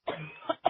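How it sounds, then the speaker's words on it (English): A person with a lingering bad cough lets out a short burst of close, loud coughs, with a brief pause before a final sharp cough. "sorry, my cough is still bad."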